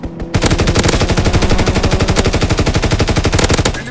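A fighter plane strafes a target in the WWII shooter game Call of Duty: WWII, its machine guns firing a loud, rapid, unbroken stream of shots for about three and a half seconds after a brief quiet start.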